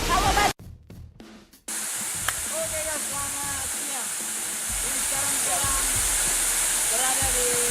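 Prarom waterfall at Batu Gajah near Bitung, among rock formations: steady, loud broadband rush of falling water fills the scene after a brief gap, with faint whistle-like tones and scattered bird or voice chirps layered over the roar.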